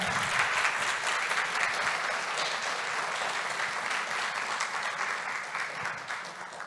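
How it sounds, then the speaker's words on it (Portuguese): An audience at an energy-efficiency conference panel applauds the women present, a full, even round of clapping sustained for several seconds and tapering gently at the close. "Vamos aplaudir as mulheres"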